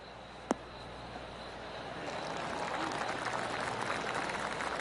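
Golf crowd applause in the PGA Tour 2K23 video game swells into a steady, soft wash of clapping after a single sharp click, continuing evenly at moderate distance.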